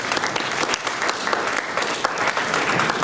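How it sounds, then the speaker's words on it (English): A roomful of people applauding a special envoy at a conference on Haiti's recovery: brisk, crackling clapping with distinct sharp hand strikes over a full, sustained patter, fairly close and loud throughout, with no speech over it. "Let's give him a round of applause."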